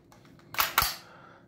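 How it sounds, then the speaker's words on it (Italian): Two sharp, loud metallic clacks in quick succession as the charging handle of an airsoft replica rifle is pulled back and released, preceded by a few faint clicks. "tirando la leva d'armamento, si arma l'otturatore e qua si spara"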